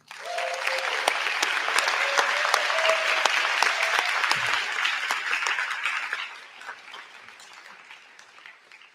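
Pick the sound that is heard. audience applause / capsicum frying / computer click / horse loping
audience applause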